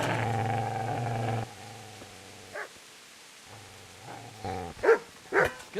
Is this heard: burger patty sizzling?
no